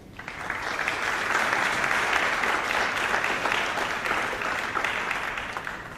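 An audience claps steadily for several seconds at a university honors convocation, a dense wash of applause that swells slightly and then tapers near the end.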